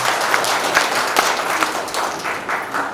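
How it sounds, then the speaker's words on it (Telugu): Audience applause fills a hall at a yoga centre's general body meeting, steady continuous clapping from many hands, fairly loud and close, with no speech over it. "అందరూ please give him big claps."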